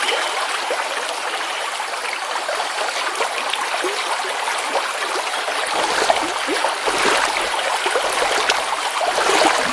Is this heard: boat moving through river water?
yes